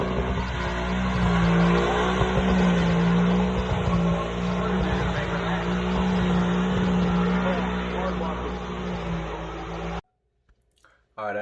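An Oztune truck is driven hard, its engine roaring loud and steady with a rasping, droning tone and possible tire squeal, then cutting off abruptly near the end.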